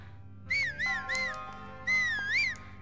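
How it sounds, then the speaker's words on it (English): Link whistling in The Legend of Zelda: Breath of the Wild, a clear melodic tune in two warbling phrases over soft ambient game music. "Oh no, he's just whistling."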